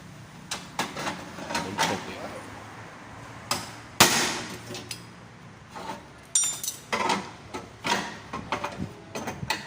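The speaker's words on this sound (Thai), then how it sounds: "เอาค้อนใหญ่ตีเหล็กสีดำใหญ่ได้" A big hammer strikes black iron in a workshop, sharp metallic blows landing irregularly, a few loud ones standing out, with clanks and handling noises between them.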